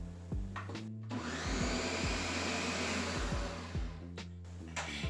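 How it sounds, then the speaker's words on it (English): A blender whirs steadily, blending a leftover turkey sauce until smooth, with a loud continuous motor roar broken by a brief pause near the start and a few short knocks at either end. "we're just going to blend it till it's smooth"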